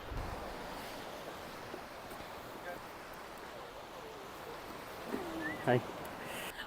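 Steady wash of sea waves rolling onto the shore at Paignton, England, with wind buffeting the microphone and a brief faint voice near the end.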